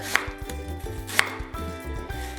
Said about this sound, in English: I'm gonna cut this onion up real quick.